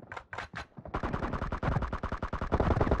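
Rapid automatic fire from an M416 assault rifle in a video game: a few separate shots, then a dense, loud, continuous burst that runs to the end.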